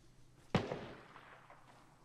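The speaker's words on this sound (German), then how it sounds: "Schüsse kommen west, also wir sind sicher." A single distant gunshot in the video game ArmA 3 cracks and echoes away, faint against a quiet background.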